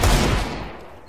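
A short burst of gunfire from a bot in a shooter game, loud and close, with a quick rattling onset that fades within about a second.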